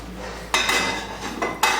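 Pieces of fried chicken tipped into a pan of boiling ketchup and cornflour sauce, two or three distinct metallic clatters and scrapes against the pan over a low steady background.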